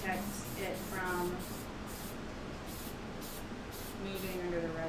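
Archival spray coating comes out of an aerosol can in a series of short hissing bursts with brief pauses between them, close by, partly under a quiet voice.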